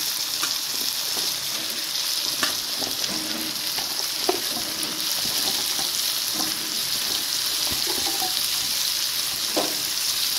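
Jackfruit (echor) and pumpkin curry frying in a pan, a steady close sizzle with scattered stirring clinks and scrapes running throughout, no voices.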